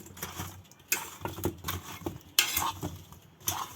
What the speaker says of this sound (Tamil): இதை வடிவாக மிக்ஸ் பண்ணி உப்புகள் தூளுகள் எல்லாம் வடிவாக பிரண்டு வர மாதிரி வடிவாக மிக்ஸ் பண்ணி எடுக்கணும்